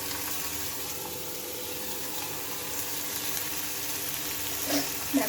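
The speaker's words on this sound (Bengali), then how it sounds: "পেঁয়াজগুলোকে দিয়ে নিলাম আর পেঁয়াজগুলো একটু লাল লাল করে আমি ভেজে নিচ্ছি" Chopped onions with garlic and green chillies fry in very hot oil in a wok, giving a steady, close sizzle throughout with a couple of soft stirring knocks near the end.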